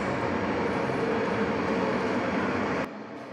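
A train rumbles steadily with a dense, broad hiss close to the listener, then the sound drops off sharply near the end.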